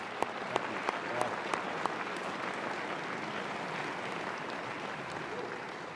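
A graduation ceremony audience applauds in a steady, dense wash of clapping that holds for the whole stretch, with a few sharper individual claps standing out near the start.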